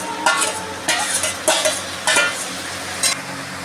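Ginger, garlic and tomato paste frying with onions for a mutton curry, sizzling steadily in the pan while a spoon stirs in several scraping bursts, close and fairly loud.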